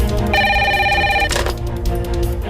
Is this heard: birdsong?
no